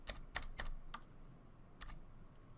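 Typing on a computer keyboard: a handful of quick, close key clicks in two short bursts, quiet and alone with no talk.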